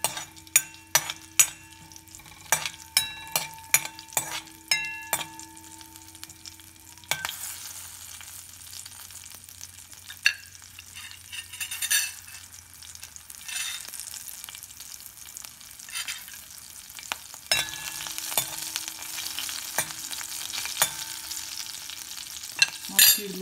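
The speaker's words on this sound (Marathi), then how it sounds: "त्याच्या त्या हिरव्या मिरच्या चिरलेल्या टाकायच्या. त्या जरा होऊ द्यायच्या तेलामध्ये." Chopped green chillies fry in oil after cumin seeds, with a sustained sizzle and frequent spatula clacks and scrapes against the pan, heard up close throughout.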